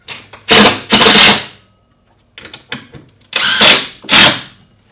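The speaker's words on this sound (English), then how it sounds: "I always screw these screws in just so the points are sticking out" Short bursts from a power drill driving screws while a Steadyrack bike rack is mounted: four loud, close whirring runs in two pairs, separated by quieter clicks and handling noises.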